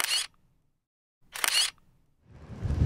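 A camera shutter fires twice at a scenic roadside viewpoint, two crisp, close clicks about a second apart, followed by a low rising rumble.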